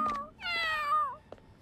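A cat gives a short chirp, then a long, drawn-out meow that falls at the end, followed by a faint brief sound; close and clear against a quiet background.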